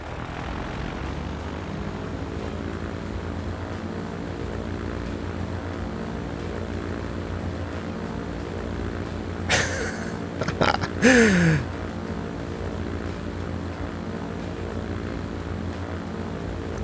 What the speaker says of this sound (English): Look at that big airplane over here, the Airbus.